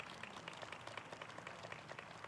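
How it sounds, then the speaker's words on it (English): A crowd applauds at a climate deal signing with West Coast governors, giving a steady wash of many hands clapping, faint and distant, with no talk over it. "Give them a round of applause."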